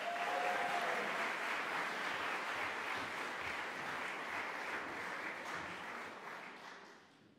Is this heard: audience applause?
yes